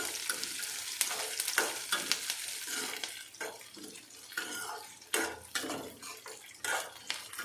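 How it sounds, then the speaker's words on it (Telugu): Cumin, mustard seeds, chana dal and peanuts fry in oil in a pan for semiya upma, crackling softly under repeated spoon scrapes and metallic clinks of stirring. "జీలకర్ర, ఆవాలు, శనగపప్పు, పల్లీలు అన్నీ దీంట్లో వేయించుకోవాలి. ఇలా వేయించుకోవాలి, కొంచెం కలర్ చేంజ్ అవ్వాలన్నమాట."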